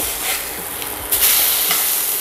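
A beef burger patty fries in a pan with a steady broadband sizzle and hiss, growing slightly louder partway through, with no talking.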